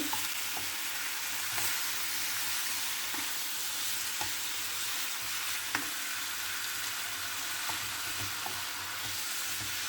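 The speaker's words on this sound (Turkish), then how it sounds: "İki üç dakika karıştırıp bırakıyorum." Meat sautéing in a pan gives a loud, continuous hiss and sizzle, broken by regular knocks and scrapes as it is stirred, close up and steady throughout with no voices.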